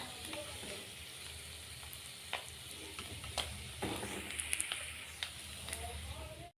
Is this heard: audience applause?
no